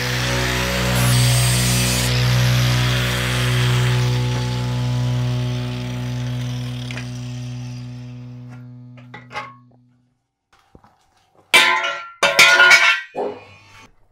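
A saw cutting aluminium parts gives a steady, loud tonal whine with a ringing hum that runs down and stops, followed by several clattering knocks and scrapes of metal.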